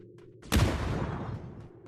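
Missile explosion in the PUBG New State video game, a single sudden loud blast that decays into a rumbling tail over a low background.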